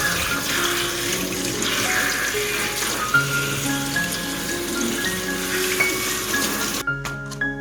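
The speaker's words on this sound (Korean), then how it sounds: "준비한 배춧잎 2장을 찬물에 깨끗이 씻어주겠습니다." Cold water runs steadily from a tap while two cabbage leaves are rinsed beneath it, a continuous close splashing stream with faint rustles of the leaves, stopping near the end.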